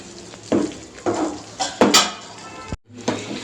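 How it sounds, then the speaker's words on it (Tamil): Spoon scraping and stirring a thick Mysore Pak mixture in a pan while oil is added little by little: about five separate broad scraping strokes, close and moderately loud, with no talk. "இதை நல்லா கைவிடாமல் கிளறிக்கிட்டே இருங்க. இந்த மாதிரி தான் கிளறணும்."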